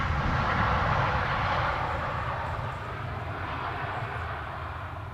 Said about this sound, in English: The Embraer arriving from Aalborg.